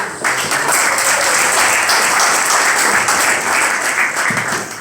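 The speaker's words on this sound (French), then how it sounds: "applaudissez pour vous" Audience applause at a youth, environment and creativity celebration event, a dense, steady wash of clapping from a crowd sustained throughout, fairly loud and close.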